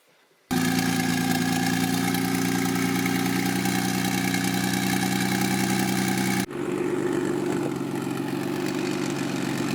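An Acura RSX idles steadily outdoors, its engine a near, even hum with a slight shift in tone partway through as wind buffets the scene; no one speaks.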